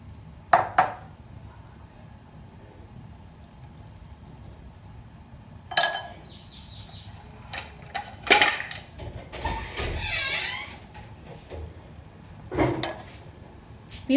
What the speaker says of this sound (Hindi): अच्छी तरह से हमने इसको हिला लेना है।